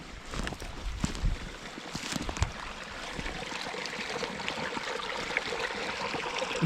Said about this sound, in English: It's a nice stream.